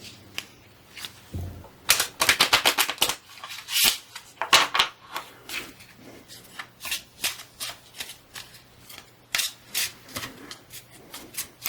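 A German-language Egyptian tarot deck being shuffled by hand, a close, crisp run of riffling card flutters and slaps in repeated bursts, with no voice.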